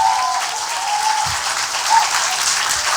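An audience at a Korean interview show with Moon Jae-in applauds, a dense, even wash of clapping that stays loud and steady throughout with no voices on top.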